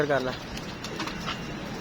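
A pigeon coos softly nearby in a short low burble, with a person's voice talking alongside.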